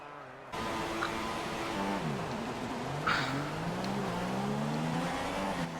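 Formula 1 race car engine in the F1 2016 racing game, a continuous rising and falling whine as it shifts through gears, steady and prominent with no talk over it.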